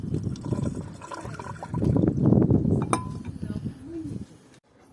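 Gas lamp liquid used as an engine flush drains out of an engine oil pan, pouring and splashing with small metallic clinks, while a voice talks over part of it.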